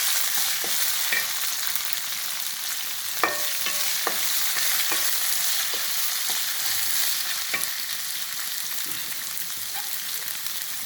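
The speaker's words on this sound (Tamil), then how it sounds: "கேரட் இதை நல்லா எண்ணெயிலே வதக்கிடணும்" Potato and carrot pieces sauté in hot oil for a Tamil bisibelabath, giving a steady close sizzle with scattered scraping taps of a spoon stirring through the pan.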